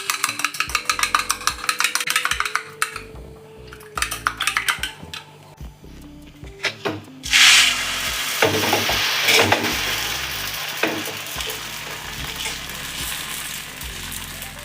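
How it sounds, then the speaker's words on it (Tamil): An egg beaten for egg dosa: rapid rhythmic clinking taps of a utensil against a bowl in bursts, then a louder sizzling, scraping stretch of kitchen noise; fairly close and with no talking. "அடுத்து முட்டை தோசைக்கு நம்ம ஒரு முட்டையை நல்லா கலக்கி வச்சுக்கலாம்"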